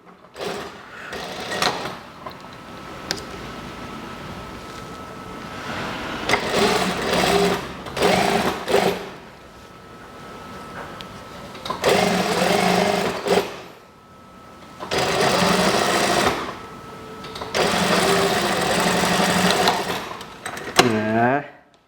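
A sewing machine stitches fabric for a kimono-style house dress in loud bursts of rapid mechanical whirring, several runs separated by pauses, with someone talking between and over them.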